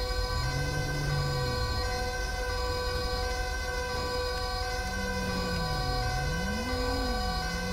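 An ambulance siren from a GTA 5 emergency services mod rises and falls in a wailing sweep, steady and fairly loud beneath a constant engine-like drone, with a second wail sliding in during the later seconds.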